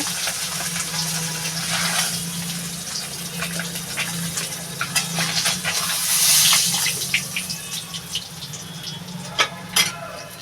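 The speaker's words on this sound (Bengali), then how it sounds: "এবার আমি এই যে কড়াইটাতে জল দিয়ে দেবো" Water poured into a kadai on a home stove while fish curry with helencha greens is being cooked, a steady gushing pour lasting several seconds with a low hum underneath and a few clinks toward the end.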